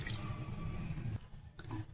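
Water poured into a pot of fish curry partly cooked on the stove, a short steady splashing stream that cuts off briefly and then resumes.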